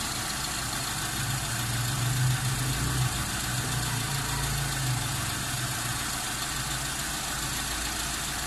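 A Mitsubishi 4G13 engine with a piston-type carburetor idles with a steady, low, even hum and faint vibration while the idle mixture screw is turned, no voices.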